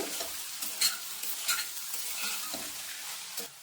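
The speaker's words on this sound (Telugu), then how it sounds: "మధ్య మధ్యలో అప్పుడు కలుపుతూ వేయించుకోండి" Banana flower curry frying on a low flame while a spoon stirs it in the pan, a soft continuous sizzle with intermittent scraping strokes, close and fairly quiet.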